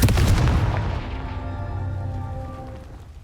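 A Confringo blast spell goes off in the video game Hogwarts Legacy, a loud booming explosion near the start whose rumble and ringing tail slowly fade over a few seconds.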